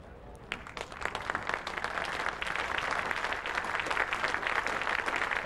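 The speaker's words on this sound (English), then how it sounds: "Applause for the 50 partnership." A cricket crowd at Trent Bridge during the fifth test between England and West Indies applauds a fifty partnership, the clapping building from a soft start into a steady, fairly distant wash that lasts for several seconds.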